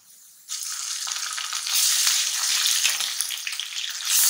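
Ginger-garlic paste hits hot oil in a pan with browned onions for a milk chicken karahi, bursting into a loud, steady broadband sizzle after a quiet start and swelling further as it is stirred.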